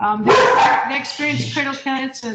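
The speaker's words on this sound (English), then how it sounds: "I'm sorry about the dogs." Dogs bark and yip loudly nearby in bursts, overlapping someone talking during an online policing policy meeting.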